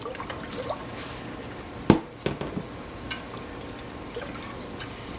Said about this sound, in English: once you've got it all hot and boiling, you want to pour in your sugar. And stir it while you're doing it